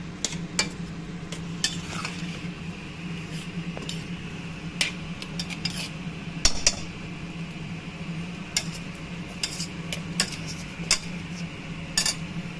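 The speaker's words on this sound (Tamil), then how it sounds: "போட்டுட்டு நல்லா அப்படி கிண்டி விடணும்" Carrots and beans being stirred in a pot for paneer biryani, with scattered clinks and scrapes of a utensil against the metal over a low, steady cooking hum, close and moderately quiet.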